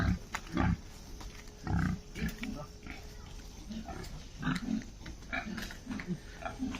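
Pigs grunting and oinking repeatedly at close range, bursts of snorts coming in uneven clusters over a steady low background.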